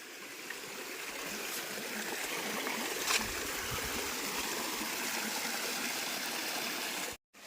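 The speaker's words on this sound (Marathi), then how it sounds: "हा पाणी जाऊन खाली नदीला मिळतो" A small stream flows steadily down toward a river, a continuous close rushing and gurgling with no break until the very end.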